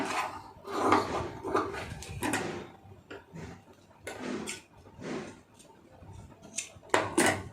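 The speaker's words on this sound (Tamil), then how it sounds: "இப்போ இந்த இடத்துல வந்து ஒரு சிசர் கட் போட்டுருங்க" Scissors cut through blouse fabric in a series of irregular, close crunching snips separated by short pauses, with no talking.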